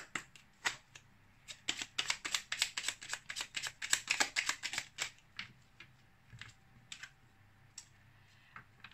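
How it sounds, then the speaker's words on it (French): Cards from an angel oracle deck are shuffled and handled, a fast run of crisp riffling clicks that dies down into scattered light taps and slides, close and quiet. "On va maintenant prendre une carte du petit oracle des anges."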